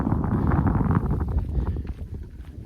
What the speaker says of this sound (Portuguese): Daí o vento vem e passa por ele, não tem nem como dispersar o vento.